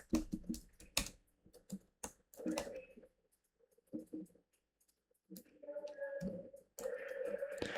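Someone types on a computer keyboard with long fingernails, quiet irregular clusters of clacks and key taps separated by short pauses, with a denser burst of keystrokes at the end.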